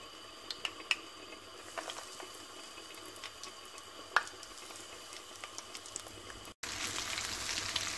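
Minced meatballs fry quietly in a sauce, giving a faint, low background hiss broken by sparse, scattered pops and crackles, close but soft, with no talking.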